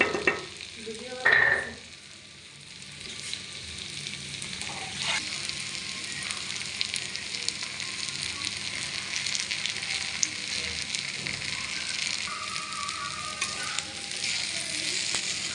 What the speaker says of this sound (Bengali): রসুনটা পুরো ভাজা ভাজা হয়েছে।